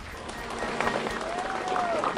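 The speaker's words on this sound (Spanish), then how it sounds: "Un fuerte aplauso para él." Applause from an audience at a public ceremony in Tarija, Bolivia, where houses are handed over to families; steady clapping fills the short stretch, with a faint whistle-like tone and some voices mixed in.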